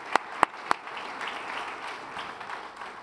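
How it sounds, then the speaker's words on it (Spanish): A few sharp, isolated hand claps ring out near the start, then a church congregation keeps up soft, diffuse applause that stays low and steady. "Un aplauso al Rey de Reyes, un aplauso a Jesucristo"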